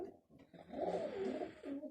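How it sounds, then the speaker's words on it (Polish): Pigeons in a loft give low, throaty coos, a soft rolling call rising and falling over a couple of seconds against a quiet background, with a brief pause before the cooing swells. "Gruchanie jest."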